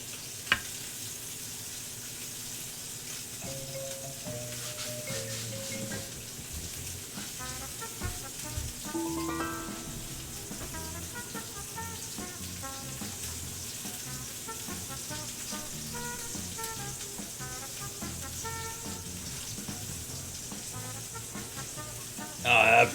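Meat sears over a flame set to about half power, giving a steady soft sizzle alongside faint clinks and tonal background sounds, with a short louder burst at the end.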